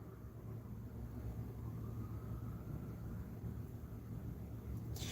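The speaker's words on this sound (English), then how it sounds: "I hear the sirens, but then I hear the plane as well." A low, steady rumble of an airplane passing overhead, distant and continuous throughout, with no voices.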